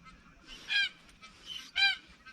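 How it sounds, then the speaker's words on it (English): Two black cockatoos give two loud, harsh calls about a second apart, heard in the open near a mango tree during picking. "2 black cockatoos."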